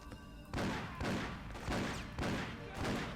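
Shotgun fire in Freedom Fighters, five heavy blasts at a steady pace about half a second apart, each a broad punchy crack with a short tail, fairly quiet overall and without speech.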